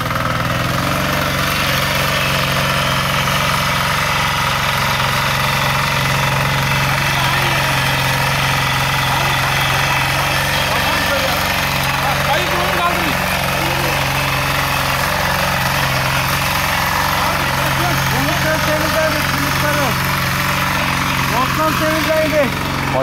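A REMA rotary tiller engine runs steadily and loud throughout, a continuous mid-pitched drone with slight rises in revs, while people talk over it.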